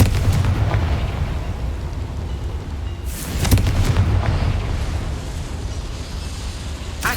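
Confringo fire-blast spell in Hogwarts Legacy: a dense rumbling fiery roar with sharp explosive bursts, the loudest blast landing midway, alone with no talk.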